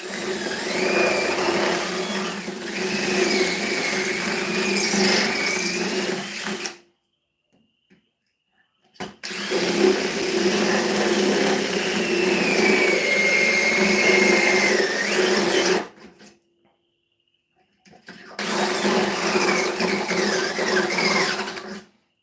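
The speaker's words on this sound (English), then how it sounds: "Drill, where you at, drill? There you are, drill." A power drill whirs loudly in three long bursts, each several seconds, with short silent pauses between them.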